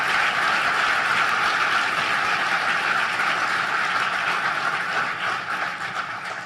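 A large audience gives sustained, loud applause at a formal government address by a vice president, a dense, even wash of clapping that holds for several seconds and tapers slightly at the end.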